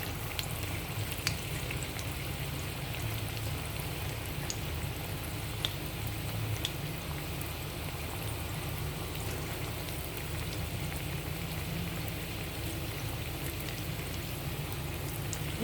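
Semolina vada balls frying in hot oil, a steady dense sizzle and bubbling crackle that runs evenly throughout with no talking.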